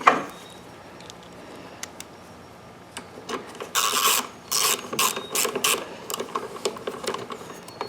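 Bolts being ratcheted onto the carburetor of a Toro Recycler lawnmower with a Kohler XT675 engine, crisp clicking ratchet strokes in a quick irregular rhythm, close, after a quieter stretch of handling.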